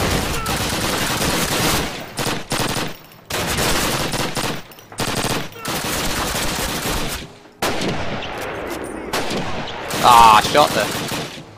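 Close, loud bursts of rifle and machine-gun fire in the video game Call of Duty, Warsaw tank factory level, coming in several separate volleys with short silent gaps, a brief spoken exclamation near the start.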